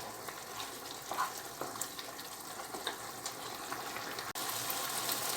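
Risotto rice for a caprese risotto simmers and sizzles softly in the pan as broth is added a little at a time, a steady low bubbling with faint stirring scrapes and no voices.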